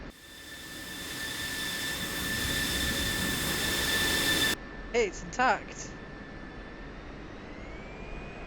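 F-16 Viper jet engine in the DCS flight sim, a loud steady broadband roar for the first half, then cutting to a quieter idle hum with short bursts of voices over it.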